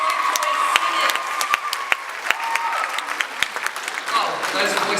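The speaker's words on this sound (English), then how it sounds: "Round of applause, please, again for the amazing" An audience applauds singers, with a dense, continuous patter of many hands clapping close by and steady throughout, plus a brief voice rising over it near the end.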